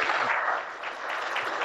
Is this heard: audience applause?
yes